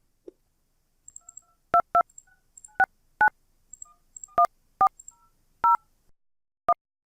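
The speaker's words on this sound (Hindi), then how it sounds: "यहाँ पे फिर से नंबर डायल कर देता हूँ।" A phone number is dialed on a keypad during an internet calling app setup, giving a series of crisp DTMF key tones in irregular rhythm, separated by brief pauses and soft clicks.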